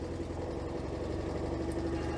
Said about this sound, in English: we'll just pull her up there and let her warm up for a bit.